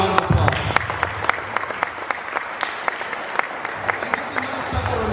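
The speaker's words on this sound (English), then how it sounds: "so please a loud round of applause." Audience applause in a school or sports gym at a badminton tournament prize ceremony: a sustained, fairly close wash of many hands clapping with sharp individual claps standing out, with faint talk underneath.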